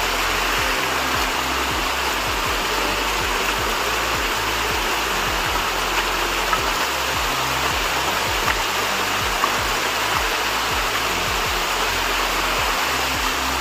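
Loud, continuous rushing water roaring steadily like a torrent or waterfall, with occasional low thumps beneath the constant wash.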